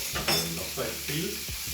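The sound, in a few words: steak sizzling in a pan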